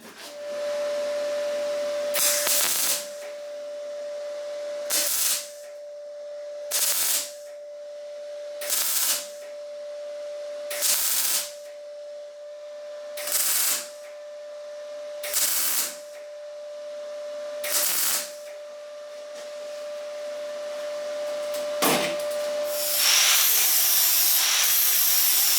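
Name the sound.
tack welding corners of an MGB Roadster door skin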